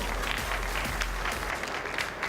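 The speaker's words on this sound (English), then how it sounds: "a big round of applause for Sequinder Singh Kela" A gala audience breaks into applause for an honoree, a brief, full burst of clapping from a crowded room that fades slightly near the end.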